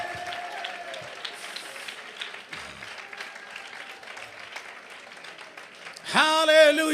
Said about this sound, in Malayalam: കൈയടിക്കുന്ന നേരെ കൈയടിക്ക്.